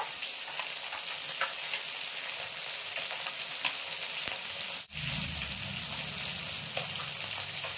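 Puti fish spit and crackle in hot oil in a pan, a steady loud sizzle that runs throughout with a brief dip midway, and no talking.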